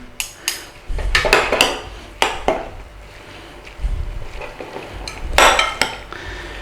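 Mint leaves being tossed into a grilled pork salad, Thai moo nam tok, with a run of close utensil clinks and scrapes against a bowl, some sharp and bright, others soft rustling, in uneven bursts with no talking.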